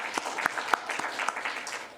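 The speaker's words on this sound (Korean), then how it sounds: "우리 하나님께 영광의 박수를 올립니다" Scattered clapping from a group, moderately loud, with a few sharper individual claps standing out.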